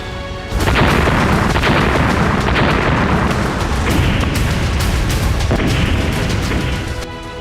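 Explosions from Iranian ballistic missile strikes on Israeli cities: a dense, continuous roar of booming blasts and rumbling bursts, loud and sustained for several seconds with sharp transients layered over heavy low rumble.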